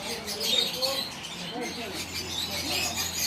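Small birds chirp in a garden, a busy faint twittering spread throughout, with a person talking softly nearby.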